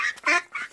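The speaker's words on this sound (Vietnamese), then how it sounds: "Bây giờ chắc mình thả con vịt này đi anh nhỉ?" A three-legged duck gives three quick, loud, close quacks in a short burst, with no other sound around them.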